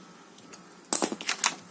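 Craft blade slicing through paper for a junk journal pocket, a brief close series of crisp scratchy cuts and rustles after a faint tap, with no talk.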